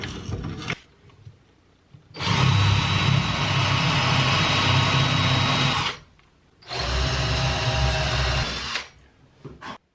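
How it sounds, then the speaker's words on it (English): Power drill boring screw holes from inside a boat hull to fit a skeg, two sustained loud bursts of whirring, grinding drilling separated by short quiet pauses, close and alone. "while drilling the screw holes from the inside of the hull"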